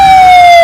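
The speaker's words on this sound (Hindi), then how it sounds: "फिर इस घटना की खबर दमकल विभाग को दी गई और कुछ देर बाद फायर ब्रिगेड की गाड़ी वहां पहुंच गई।" Fire brigade vehicle arriving at a warehouse fire, its siren a loud, close, sustained tone that slides gradually lower throughout.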